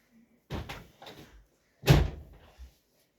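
An indoor door is opened and then shut again, a pair of quick knocks and clicks followed by a louder closing thump, close by with no talking.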